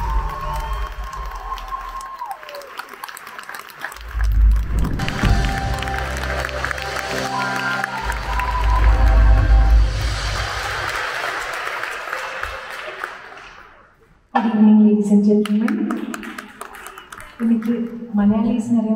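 Concert crowd applauding and cheering as a singer is welcomed to the stage, broad swells of clapping and shouts over music and amplified talk, dropping off before a voice speaks.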